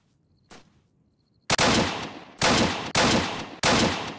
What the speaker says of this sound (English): What are you shooting at right now?